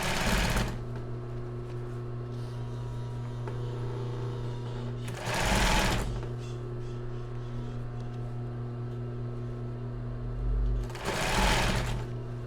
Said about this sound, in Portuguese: Eu dei um retrocesso para a costura não ficar desmanchando.